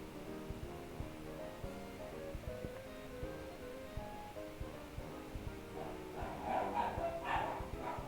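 A puppy yips and barks a few times in quick bursts near the end, moderately close, over a quiet background of soft music.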